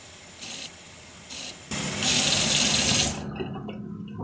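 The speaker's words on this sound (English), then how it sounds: "pouring hot water up until it's full with fairy washing up liquid" Hot water gushes loudly from a tap into a container after a couple of brief spurts, then stops, leaving faint drips.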